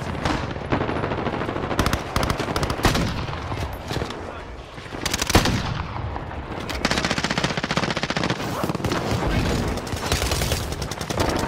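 Rapid, dense gunfire rattles almost continuously in a video game battle, loud and close, with heavy shots layered over one another and faint voices underneath.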